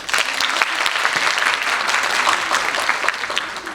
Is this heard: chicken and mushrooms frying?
no